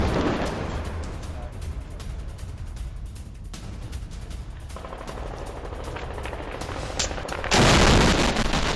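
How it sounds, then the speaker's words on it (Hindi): Explosions from a military strike on buildings rumble and crackle like distant heavy gunfire, ending in a louder, deeper boom, with a voice talking over parts of it. "ये देखिए जरा एक्सप्लोजन देखिए, ये देखिए जरा एक्सप्लोजन।"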